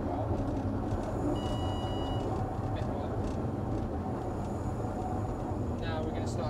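A Hunslet steam locomotive runs with a brake van, giving a steady, loud rumbling roll with a faint high whine.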